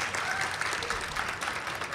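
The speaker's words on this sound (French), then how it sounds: "je vous demande de l'applaudir" An audience applauds a young radio journalist contestant at a radio fair final, a brief, even burst of crowd clapping at moderate volume with nothing else standing out.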